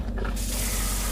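A camper van tap opened again after winter storage, water bursting out with a sudden, loud, steady spraying hiss that continues without pause.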